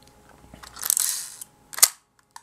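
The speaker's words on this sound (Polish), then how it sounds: "No teraz zrobił zdjęcie na maksymalnym otwarciu." Mechanical whirring and clicks from an Elikon Autofokus camera rise to a sharp shutter snap as it takes a photo at maximum aperture, then one small tick follows, all close up and quiet.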